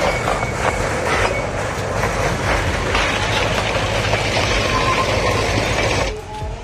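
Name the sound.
toy train running on track at rail museum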